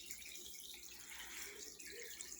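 Water from a canister filter's splash bar pours steadily into a 40-gallon breeder aquarium, a soft continuous trickling splash heard up close with no voices.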